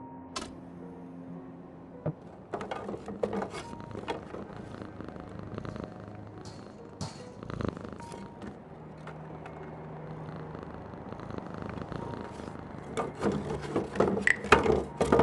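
A cat purrs beside an open window in an evening street scene of a point-and-click adventure game, a soft continuous rumble mixed with faint wooden rubbing and scattered clicks, quiet and without speech.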